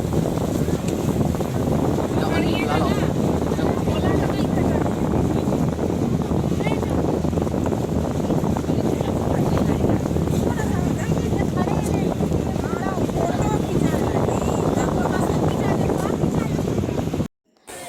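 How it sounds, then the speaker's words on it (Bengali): Two river launches travel one after another across a fast-flowing river toward Umananda Temple near Guwahati. A steady, loud engine drone and rushing water carry on throughout, with wind buffeting the microphone, and the sound cuts off abruptly at the very end. "এই যে পরপর দুটো লঞ্চ যাচ্ছে"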